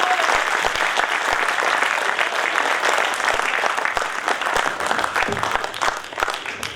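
An audience applauds the poets at a Hindi kavi sammelan, steady, loud, dense clapping that fills the whole stretch and tapers slightly at the end, with no talk over it.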